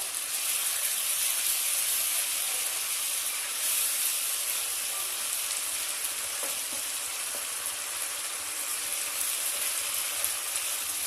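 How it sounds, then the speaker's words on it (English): Bengali-style rohu fish curry (macher jhol) boils in a pot, giving a steady, even bubbling hiss with faint pops, continuous and close with no talking. "let it boil for 2 minutes"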